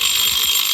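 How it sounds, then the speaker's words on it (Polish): A pump controller alarm on a hydrophore water pressure system, triggered by simulated high pressure, gives a continuous high-pitched electronic buzz that lasts the whole short moment, close and fairly loud. "włącza się alarm tutaj z brzękiem, że coś jest nie tak"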